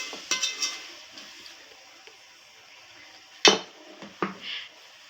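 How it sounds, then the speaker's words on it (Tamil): Ground tomato sautéed in a pan for sankara fish curry, with scattered spatula scrapes and clinks against the pan over a faint sizzle. "இப்போ தக்காளி வதங்குற வரைக்கும் நல்லா கொஞ்சம் நேரம் வதக்கி விடுங்க."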